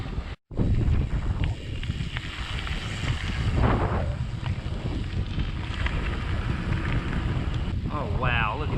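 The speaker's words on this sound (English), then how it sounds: "the wind has really picked up" Strong wind buffets the microphone while cycling a gravel road on a hilly rural route near Bainbridge, Ohio, a constant low rumbling roar with gusts swelling and easing and the faint crunch of tires underneath.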